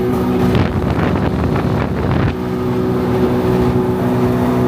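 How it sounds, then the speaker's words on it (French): A jet ski running on a river, a loud steady engine drone mixed with wind buffeting on the microphone and water rush, close and continuous. "Ramène le scooter des mers à la rivière, je vais te montrer."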